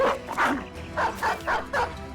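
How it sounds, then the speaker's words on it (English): Dog barking in the Battle Brothers video game: a series of about five sharp, fairly loud barks and yips in an uneven rhythm, close by, with no talk over them. "Release our dog."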